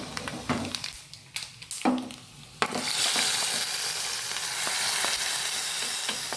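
Tempering dropped into hot coconut oil for South Indian sambar: a few sharp clicks and clatters, then a sudden loud, close sizzle that bursts up and keeps crackling steadily to the end, with no talking.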